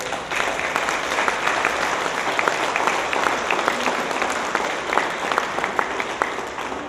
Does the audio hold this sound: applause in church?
yes